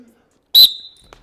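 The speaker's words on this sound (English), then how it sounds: "Somebody blow the whistle. Blow the whistle." One short, shrill referee whistle blast for a penalty, loud and close, trailing off quickly into quiet.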